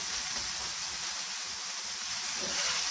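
Minced keema fries on a hot tawa, giving a loud, steady, bright sizzle that hisses continuously and evenly throughout, with no talking.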